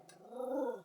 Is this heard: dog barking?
yes